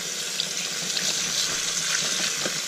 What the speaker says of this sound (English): And we'll rinse this all up.